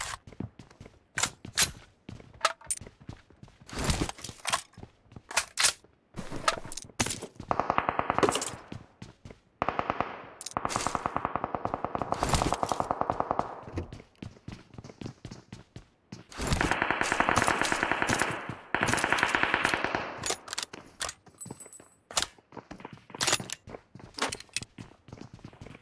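Automatic gunfire bursts from an online battle-royale shooter, rapid crackling volleys in long sustained runs separated by single sharp shots and brief pauses, loud and close with no talking.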